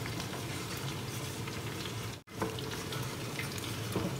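Onion stirred as it fries in a pan, making a continuous close hiss and crackle of hot oil with faint scraping, broken by one split-second gap.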